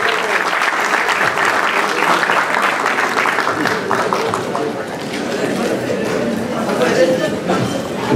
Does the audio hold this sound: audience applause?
yes